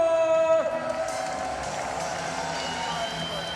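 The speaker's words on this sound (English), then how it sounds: "One more round of applause, y'all." A crowd at the EVO 2017 Smash 4 top 8 tournament cheers and whoops in a broad, sustained roar that swells at the start and then settles, with a voice rising over the noise.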